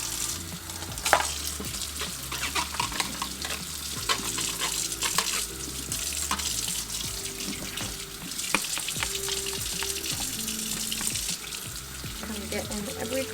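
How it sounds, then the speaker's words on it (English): A humidifier wiped down with dish soap at a sink, with continuous wet rubbing and splashing, water sounds and small clinks under occasional quiet talk. "I'm just gonna take some dish soap and wipe it down."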